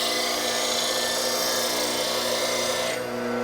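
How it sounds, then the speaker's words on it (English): A cubic boron nitride wheel grinder works a piece with a continuous, loud, harsh rasping grind that changes slightly near the end of a few seconds. "Pivot into the grinder"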